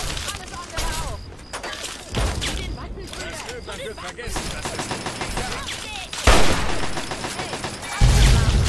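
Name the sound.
explosion and gunfire in video game Fallout 3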